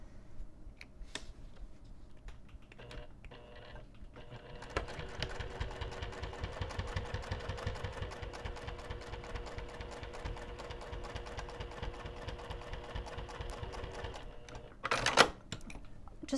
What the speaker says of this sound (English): the sewing machine just to demonstrate doing the top stitching